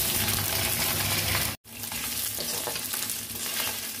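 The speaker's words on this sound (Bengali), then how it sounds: "আমি এবার মাছের মুড়োটা আগে ভেজে নেবো" Fish head frying in hot oil in a kadai for muri ghonto, a dense, steady close sizzle and crackle throughout, cut by a brief silent gap partway, with no voices.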